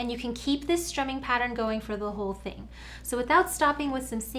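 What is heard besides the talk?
No everyday noise stands out behind the speech.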